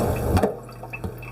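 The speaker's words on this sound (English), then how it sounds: "Go ahead and use cold water and rinse the rice off" Cold water running over rice being rinsed in a kitchen, a brief wet splash and drip with a couple of sharp water sounds over a low steady hum.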